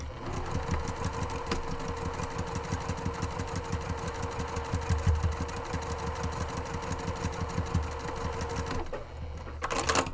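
A sewing machine runs steadily, stitching the base seam of a zippered market tote bag with fusible fleece interior. It keeps up a continuous rapid mechanical chatter close up for about nine seconds, then stops near the end.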